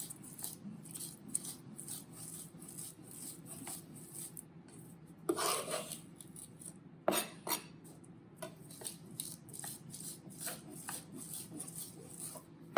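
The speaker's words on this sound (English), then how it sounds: "what the salt's doing is it's helping the garlic break down, and it's actually working as an abrasive" A knife blade scrapes and rasps against a board in quiet, repeated strokes, crushing garlic with salt, with occasional louder grinding scrapes and taps.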